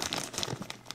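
A heat-sealed guitar string package crinkles sharply as it is opened, a close, busy run of crackling and faint tearing plastic lasting about a second, heard alone.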